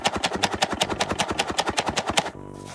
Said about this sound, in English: Front and back shake is slightly tight with packaged sound.